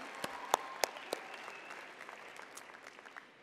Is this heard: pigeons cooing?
no